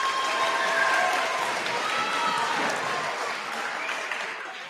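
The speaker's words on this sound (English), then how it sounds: "You can clap for it one more time." An audience at a school promotion ceremony claps in a sustained, dense round of applause that holds steady and then slowly eases off.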